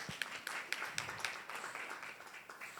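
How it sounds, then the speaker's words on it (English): Audience applause for a panel of women at an agriculture policy event: steady, moderately faint clapping from many hands with sharp individual claps standing out, continuing evenly throughout. "Please, once more, a round of applause for these outstanding women."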